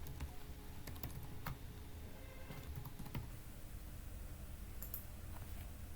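Computer keyboard typing as a username and password are entered, a run of quiet, irregular key clicks with brief pauses, close by and alone without speech.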